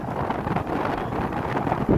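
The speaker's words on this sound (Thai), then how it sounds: "อากาศหนาวลมพัดด้วยเลยตอนนี้" Cold wind gusts steadily across an open rural spot near a reservoir in Champhone, Savannakhet, Laos, producing a continuous rough rumble with buffeting against the microphone for the whole stretch.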